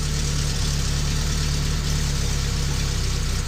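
A 1972 Fiat 850 engine idles steadily at around 1,000 RPM, a close, constant low rumble with an even pulsing beat and no pauses.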